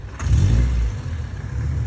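A car engine revs up briefly, then drops back to a low, rumbling idle close by.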